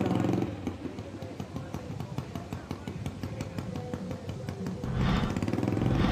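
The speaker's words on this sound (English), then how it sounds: "I can hear an exhaust in my ear right now that sounds like it's got no muffler." A loud Harley-Davidson motorcycle engine with no muffler at a hill climb event roars steadily under crowd noise, with a rough, rapid exhaust pulse that swells louder toward the end.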